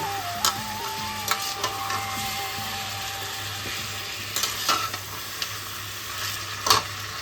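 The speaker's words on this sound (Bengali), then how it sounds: "চিকেনটাকে কিন্তু একটু ভালো করে ভেজে দেব।" Chicken pieces fry with a ground cumin, coriander, ginger and garlic paste in a pan for a Bengali chicken curry. Low steady sizzling sits under sharp scrapes and clinks as a utensil stirs at intervals.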